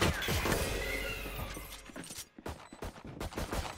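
Rapid bursts of gunfire from a Valorant match, dense and loud at first, then broken into choppy volleys with short gaps and sharp impacts.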